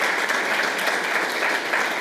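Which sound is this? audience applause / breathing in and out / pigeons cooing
audience applause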